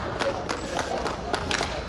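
A congregation at a deliverance prayer service claps in steady rhythmic beats, with crowd murmur and voices mixed in throughout.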